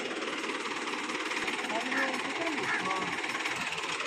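A tractor stuck against a tree after slipping runs with a steady, loud, rough engine roar and rattle that holds for several seconds, while someone talks over it.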